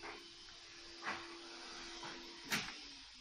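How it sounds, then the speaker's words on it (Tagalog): A vacuum cleaner runs steadily in a home, a faint continuous whir with a couple of brief knocks as it bumps along, no voices. "nagwa-vacuum ng aking partner"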